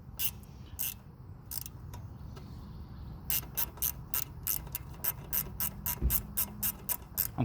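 A wrench works loose the nuts on a KM100 motorcycle sprocket during a chain and sprocket change. Faint, uneven clicks at first give way to a steady, close run of sharp ratcheting clicks over a low background hum.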